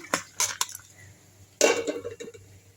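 Dal pakoda batter of ration toor dal, onion, green chilli and asafoetida being mixed in a bowl, with scattered clinks and scrapes of a utensil against the bowl and a louder scraping stir near the end.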